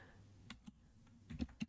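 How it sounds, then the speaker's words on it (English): Slow typing on a computer keyboard, a handful of soft, close key clicks spaced irregularly, with a small cluster near the end and quiet gaps between. "My typing's a bit slow, so just bear with me."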